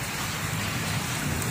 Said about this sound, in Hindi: जितनी तेज़ बारिश है उतनी तेज़ ही हवा है। हवा भी बहुत तेज़ चल रही है।